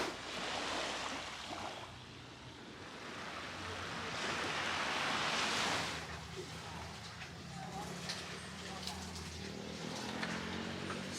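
Steady ocean surf rolls onto a beach in Oracabessa, Jamaica, a continuous wash of breaking waves with a swell in the middle, mixed with wind buffeting the microphone.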